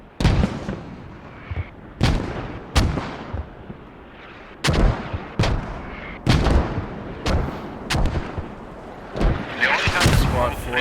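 A 30mm cannon fires in the military shooter game Squad. Loud, heavy booming shots land in irregular bursts, each with a long rolling tail, while a commentator talks throughout.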